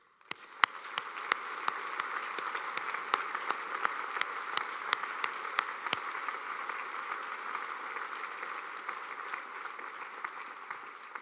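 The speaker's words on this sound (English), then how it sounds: "give yourselves another round of applause" Graduation audience at Perth College UHI breaks into a sustained round of applause, a dense, steady wash of many hands clapping with sharper individual claps standing out, filling the hall evenly from start to finish.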